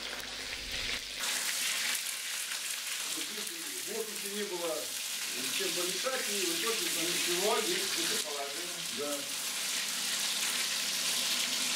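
Food sizzling and frying in a pan in a home kitchen, a steady hiss running through with some stirring and clatter, while people talk over it.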